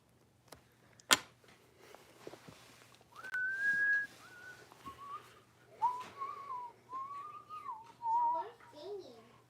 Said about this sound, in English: I wasn't singing, I was whistling.